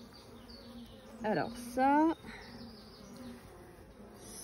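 Honeybees buzzing on a hive frame lifted out during a swarm inspection, a soft steady hum running under the whole stretch while a person speaks briefly and some louder close sounds rise for a moment midway.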